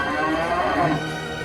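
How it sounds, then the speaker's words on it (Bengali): Cattle lowing in a cartoon, a loud sustained moo of a cow heard from outside a barn at night, close and clear with no talk. "গরুর চিৎকার বাইরে থেকে ভেসে এলো।"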